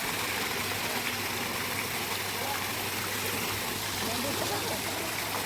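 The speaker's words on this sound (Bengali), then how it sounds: "চল ফাউন্টেনের কাছে।" Water splashes steadily in a fountain at night on a family trip to Nandan Pahar, Deoghar, a constant broadband rush close by with a faint low hum beneath it.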